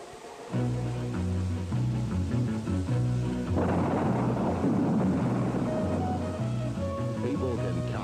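An avalanche of some 10,000 tons of snow thunders down a ski run, a deep, dense rumbling roar that swells midway and continues under steady background music.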